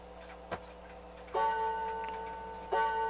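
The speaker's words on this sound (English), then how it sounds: "I'm just going to play the last track one more time, the chimes" Chimes from the final track of a vinyl record ring through a Pioneer QX-747 quadraphonic receiver, with two sustained bell-like strikes that decay slowly, after a faint tick, in a quiet room.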